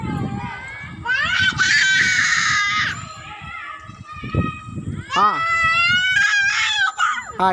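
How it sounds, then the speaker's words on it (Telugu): Someone shouts and squeals in long high-pitched bursts on an open rooftop terrace in the evening breeze, close and loud, with an adult voice talking in between. "ఏంటి అరుస్తున్నావు చెప్పు"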